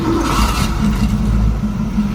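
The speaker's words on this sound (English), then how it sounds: "Give her a little fire up here" A 1968 Ford Mustang V8 with freshly done cylinder head work rumbles loudly at close range, a deep steady idle with a slight rise in revs early on and no voices over it.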